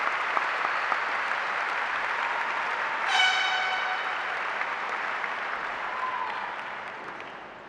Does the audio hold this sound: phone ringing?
no